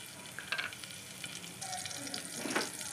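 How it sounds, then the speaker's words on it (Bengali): A large cut green chilli and black cumin seeds frying in a little hot oil, a soft steady sizzle with a few brief crackling bursts and a faint stir, quiet and close, with no talking. "এবার তেলের মধ্যে একটা বড় কাঁচা লঙ্কা কেটে নিয়েছি আর কালো জিরে দিয়ে দিলাম।"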